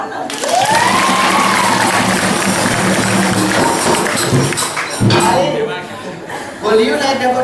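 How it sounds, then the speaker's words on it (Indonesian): An audience at a Balinese bondres comedy performance in Buleleng applauds in a steady, loud wash of clapping, with musical tones and voices mixed in and another burst of clapping near the end. "Tepuk tangan."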